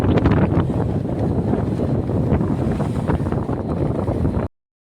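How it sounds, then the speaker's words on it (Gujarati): Strong wind buffets the microphone in a continuous, loud rushing roar, gusting unevenly before stopping abruptly. "થોડોક પવન અહીં છે અટાણે."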